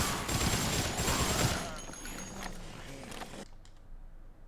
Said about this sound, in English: Two machine guns are gonna have to last me